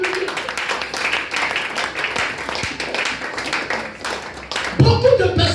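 Church congregation clapping during a service, a steady rhythmic run of hand claps under a preacher's voice, which grows louder near the end.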